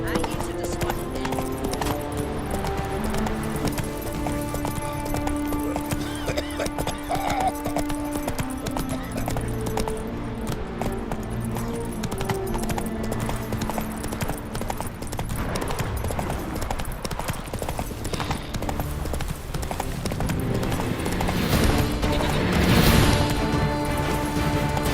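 In The Witcher 3 video game, a horse gallops with rapid, rhythmic hoofbeats that continue throughout. Game music plays underneath, and voices are heard at times.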